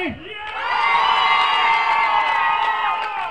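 A festival crowd cheers and whoops loudly with some applause, a sustained burst of voices rising quickly and holding steady before easing slightly, following a couples' waltz contest.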